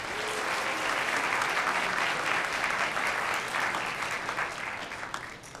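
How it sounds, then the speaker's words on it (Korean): Warm, steady applause fills a high school graduation ceremony hall as a guest speaker is welcomed, a dense even wash of many hands clapping that tapers slightly at the end. "뜨거운 박수로 다시 한번 맞이해주십시오"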